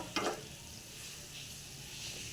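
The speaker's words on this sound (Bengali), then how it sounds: "বেগুনিগুলো পুরো রেডি, খুব সুন্দর হচ্ছে ভাজাটা।" Even, moderate sizzle of eggplant fritters frying in oil until reddish and crisp, opening with a brief clink of a utensil; no one speaks.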